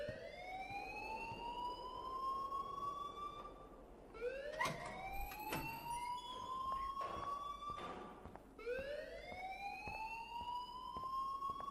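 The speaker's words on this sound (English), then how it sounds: "please turn off that alarm since that's your job" An alarm in the video game Life is Strange wails in repeated rising siren sweeps, each a few seconds long and fairly loud, broken by sharp clicks and brief thumps, with no talking.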